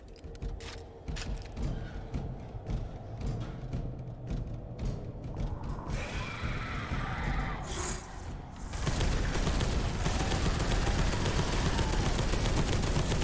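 Gunfire rattles in the video game Space Hulk: Deathwing, starting as a run of quick close shots. It swells into a dense, loud roar of continuous firing near the end, with no talk.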